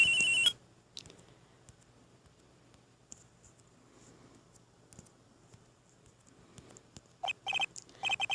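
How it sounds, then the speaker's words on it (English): A telephone rings in the Ace Attorney video game, Phoenix Wright's bedroom phone sounding one short electronic burst at the start and another cluster of rings near the end, with near-silence between. "And the phone is ringing."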